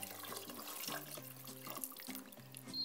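Vegetable stock is poured into a cooking pot for a vegetarian Carinthian Ritschert barley stew, giving a soft, close gurgling and splashing with bubbly liquid tones over about three seconds.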